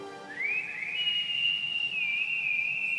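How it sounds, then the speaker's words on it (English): A single clear whistled tone from the Gormiti cartoon rises, then holds a long sustained note with slight wavering, alone against a quiet background. "Quit whistling."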